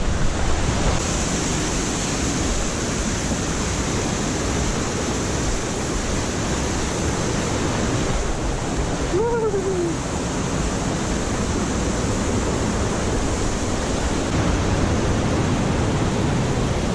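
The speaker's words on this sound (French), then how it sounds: "Et nous arrivons à la rivière." A river in the Ardèche reached on a mountain bike ride, a constant loud rushing wash of flowing water filling the whole stretch, with a brief faint whistle-like tone partway through.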